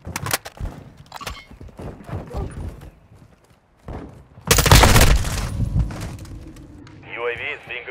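Gunfire in Modern Warfare 2 with radio-style callouts, bursts and thuds mixed through the game sounds, one loud blast-like burst near the middle, under frequent talk.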